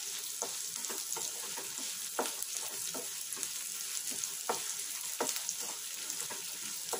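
Spices and rice for jeera rice cook in a pan with a constant, even sizzle, while regular soft scrapes and taps of a stirring spoon rise above the frying noise.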